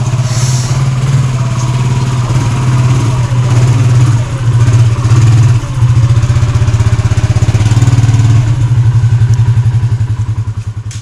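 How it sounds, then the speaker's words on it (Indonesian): A Ducati motorcycle engine runs close and loud with a strong, steady low throb and a rhythmic mechanical clatter, the engine note dipping briefly a couple of times before easing off slightly at the end, with no talking. "inilah motor Ducati saya"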